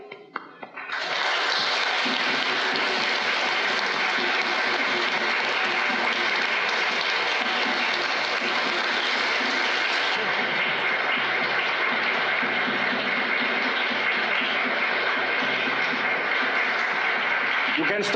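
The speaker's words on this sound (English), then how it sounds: "I would like to make a photo of you when we get our well-deserved applause." Convention panel audience gives loud, sustained applause, a dense roar of clapping that starts abruptly and holds steady for a long stretch, with voices faintly mixed in.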